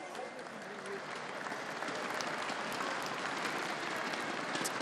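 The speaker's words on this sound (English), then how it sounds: "Give her a big round of applause," An audience at a golf exhibition event at Yas Marina Circuit in Abu Dhabi gives a sustained round of applause, dense and even throughout, with some crowd noise mixed in.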